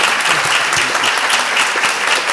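Sustained applause from an audience at a sentencing reform event, a dense, even wash of many hands clapping close and loud throughout, with faint voices mixed in beneath.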